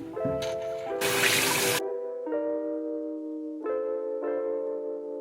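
Running water splashes at a bathroom sink as a face is rinsed, a bright burst of tap flow and dripping amid ringing tonal tones, close and intermittent, with no talk.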